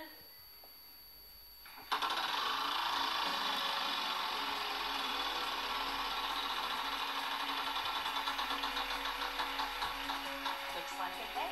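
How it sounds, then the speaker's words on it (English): Game-show prize wheel spun on a TV studio stage, a loud burst of rapid clicking that starts abruptly and rattles on steadily, gradually slowing, with audience noise beneath. "give that wheel a spin"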